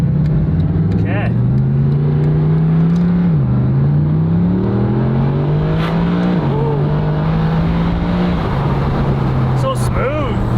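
Mercedes SLS Black Series with DCT transmission in manual mode, engine droning steadily while driving, its pitch rising through each gear then dropping at shifts several times, with people talking inside the car over it.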